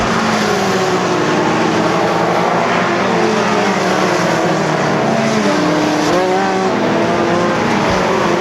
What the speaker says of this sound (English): Silver running the cushion up in the XR car as the white flag comes out